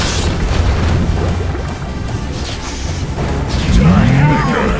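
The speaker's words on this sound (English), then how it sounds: "Radiant's middle tower is under attack." Dota 2 battle around a tower under attack: a dense, loud wash of booming impacts, bursts and crashes running continuously, swelling toward the end.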